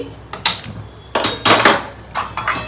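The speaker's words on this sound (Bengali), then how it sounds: "নেওয়ার পরে আমি এদিকে একটুখানি গরম জল বসিয়ে দিচ্ছি" A pot of hot water set down with a few sharp metallic clanks and knocks on a kitchen stove, close and fairly loud, in short bursts with brief pauses between.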